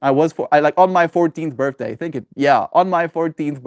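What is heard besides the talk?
No everyday noise stands out behind the speech.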